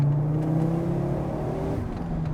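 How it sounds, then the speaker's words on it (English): A Fiat Coupe engine runs steadily at close range, a smooth, even idle hum with mild rises in revs and no knocking, loud and continuous throughout. "It sounds smooth. The engine sounds like it's good"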